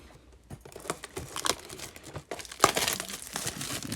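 Topps Fire trading card packs from 2020 blaster boxes torn open by hand, with close, busy crinkling and ripping of foil wrappers in irregular bursts, one sharp tear standing out.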